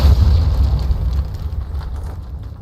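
Depulso force spell cast in the Hogwarts Legacy video game, a loud, close, low booming blast with a rumbling rush that holds steady for a couple of seconds, heard alone.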